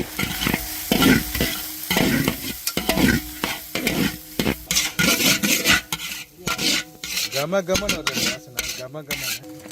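Grated coconut fries in oil for a Sri Lankan roasted coconut sambal while a spoon stirs it steadily, with repeated scraping strokes against the pan over a continuous close sizzle.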